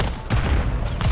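A short, loud burst of rapid gunfire in ranked multiplayer of Call of Duty: Modern Warfare 3, dense close-range shots over about a second.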